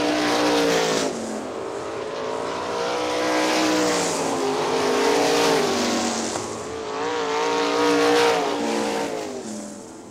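Sprint cars race around the dirt oval at Hartford Speedway Park toward the checkered flag, loud high-revving engines rising and falling in pitch as they pass in overlapping waves.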